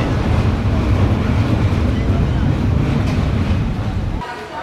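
The Drutojan Express passenger train crossing a bridge over the Atrai river, a loud continuous low rumble and rattle of the cars that drops away abruptly near the end.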